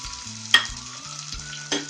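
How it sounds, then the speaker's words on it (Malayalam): Ginger and green chilies sauté in hot oil for carrot raita, making a steady close sizzle broken by a couple of sharp stirring scrapes, with no voices. "പച്ചമുളക് ചെറുതായിട്ടൊന്ന് വഴറ്റട്ടെ."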